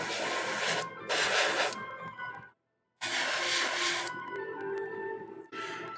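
An airbrush spraying transparent purple paint onto a Games Workshop Warhammer 40K Magnus the Red miniature, close hissing bursts of spray with a short pause between them and a final brief burst.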